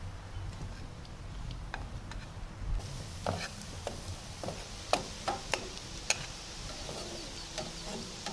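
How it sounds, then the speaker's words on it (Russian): Pepper and onion fry together in a pan for a sweet and sour sauce, a steady soft sizzle with scattered light clicks and taps from stirring, continuous throughout at a moderate level. "Отправляем сейчас перчик к нашему луку, чтобы они обжаривались вместе."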